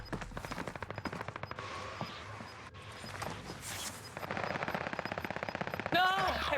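Automatic gunfire in a video game rattles in rapid, evenly spaced bursts that nearly fill the clip, loud and close, with a short lull and some muffled game noise between volleys.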